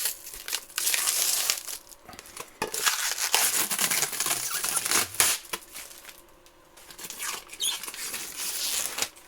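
Cling film and plastic packaging being crinkled and pulled off a glass 3D printer bed, a close, busy rustling and crackling that runs in bursts with short pauses throughout.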